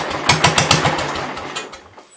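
A 1972 Gravely 430 tractor engine running on carb cleaner, close and loud, sputtering through a rough run of uneven firing pulses before dying away near the end.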